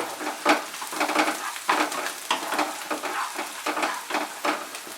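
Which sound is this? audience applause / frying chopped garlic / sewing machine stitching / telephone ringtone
frying chopped garlic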